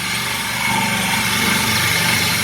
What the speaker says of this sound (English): so I'm drilling the tank.